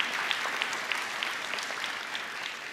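An audience at a live presentation claps in a brief, dense burst of applause, heard at a moderate distance without speech.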